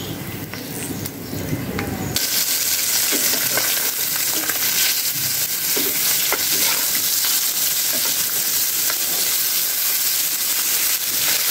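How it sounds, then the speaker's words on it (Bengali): Silver carp pieces frying in hot oil, a loud, dense, continuous sizzle and spatter that jumps sharply in intensity after a couple of seconds and stays steady, close up. "মাছটা উল্টা পাল্টা ভেজে নেব।"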